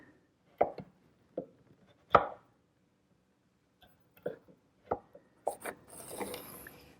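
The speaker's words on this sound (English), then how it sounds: "take a sharp chisel and just shave it away" A sharp chisel shaves away a wooden corner in scattered, crisp strokes, a few sharp cuts spaced apart, ending in a longer rasping shave.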